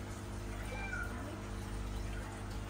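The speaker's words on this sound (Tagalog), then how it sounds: "Narinig nyo yung pusa namin nagpaglampungan sa kabilang bahay." Cats caterwaul faintly from a neighbouring house, a thin drawn-out wail over a steady hum of aquarium equipment in the room.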